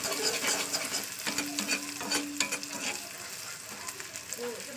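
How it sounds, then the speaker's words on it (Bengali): An egg frying in a pan with onion, salt and turmeric, crackling and sizzling close up with scraping stirs in short bursts, no voices. "চলুন একটু লবণ হলুদ দিয়ে ডিমটা ভাজা করে"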